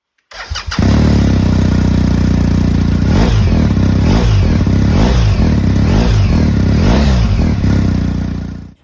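A BMW R 1250 GS motorcycle with its original exhaust and original line starts up, then idles loudly and close with a series of quick rhythmic throttle blips.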